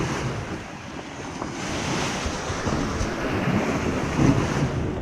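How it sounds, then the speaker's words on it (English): Lake Michigan waves wash steadily over the rocky shore of North Fox Island, a continuous broadband surf roar with gusty wind buffeting the microphone and a slightly stronger surge near the end, no voices. "The waves were grinding the bottom of my boat on the rocks"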